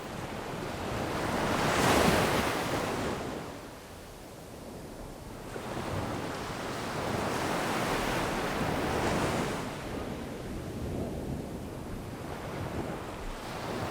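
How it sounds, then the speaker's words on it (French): Surf breaking on a long beach in Madagascar, a loud continuous roar of waves swelling and easing in slow surges, mixed with wind buffeting the microphone, with no voices. "Nous débarquons sur une longue plage balayée par le ressac."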